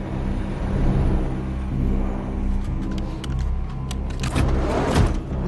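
A truck in an action film rolls along toward a bank, its steady low engine rumble continuous with a few higher mechanical whines and clicks near the end, no voices.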